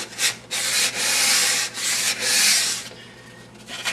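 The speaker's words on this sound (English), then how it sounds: "You can actually fold the sandpaper over like that" Folded sandpaper rubs back and forth across a wood countertop by hand. The strokes are close and rhythmic, about six scratchy passes with short gaps between them and no voices.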